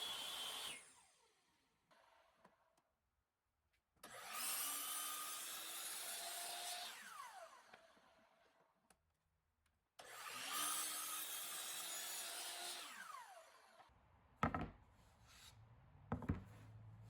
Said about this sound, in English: I start by cutting out 8 by 10 inch blanks from MDF.